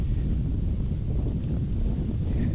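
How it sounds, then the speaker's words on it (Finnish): Wind blows outdoors, a steady low rushing buffet across the microphone with no break and no talk. "Tuulee mukavasti."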